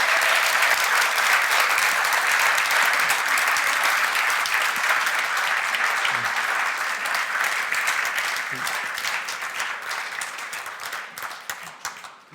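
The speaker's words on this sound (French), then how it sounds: "faire un tonnerre d'applaudissements pour nos 7 intervenants de ce soir" A conference audience gives sustained applause for seven speakers, dense clapping filling the hall and slowly thinning toward the end.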